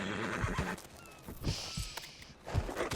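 A horse in Red Dead Redemption 2 whinnies loudly at a stable during a winter endurance race, with hoof clops and stamping around the neigh and no talk.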